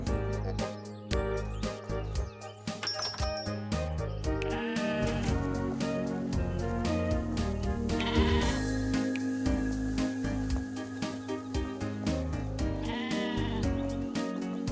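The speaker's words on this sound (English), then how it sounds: "I don't understand what these random sheep are for." Sheep bleat repeatedly in the video game Discounty over a busy, tonal musical background, with the animal calls mixed into a continuous game soundtrack.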